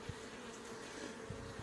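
Honey bees hum softly in a low, continuous drone around an opened hive during an inspection, faint and close, with no talking.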